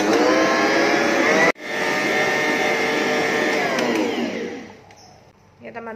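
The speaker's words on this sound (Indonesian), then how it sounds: "kita mixer lebih kurang 15-20 menit sampai kalis ya" Stand mixer motor droning loud and steady while kneading bread dough for smoked bread rolls, with a brief cutout near the start and the whir fading away toward the end.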